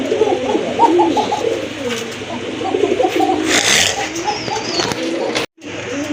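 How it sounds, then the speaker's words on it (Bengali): Round-bodied pigeons kept for sale, including a sky-blue pair, coo in repeated soft throaty bursts, close and fairly loud, with some faint background noise and a brief drop near the end. "মাশাআল্লাহ, আরেক জোড়া গোল্লা কবুতর"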